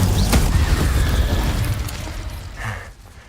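Incendio fire spell cast in Hogwarts Legacy, a loud booming burst with crackling rumble that fades over a few seconds, ending with a short sizzling flare.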